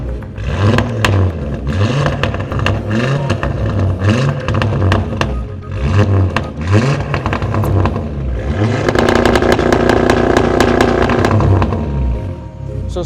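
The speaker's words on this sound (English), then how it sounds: "And now for a little bit of revs." A car with 034 mid pipes and an AWE exhaust revs repeatedly, loud and close, the engine rising and falling in several blips before a longer sustained rev near the end, with no talking.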